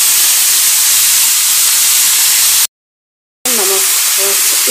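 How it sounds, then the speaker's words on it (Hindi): Leafy saag greens dropped into hot oil in a wok, a loud, dense, steady hiss of sizzling broken by a short silent gap, then resuming with faint clatter. "साग डाल दिया।"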